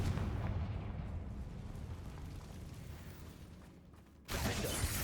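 A Confringo fire spell detonates in Hogwarts Legacy, a heavy rumbling blast that roars continuously and loud for several seconds, dips briefly, then bursts again near the end.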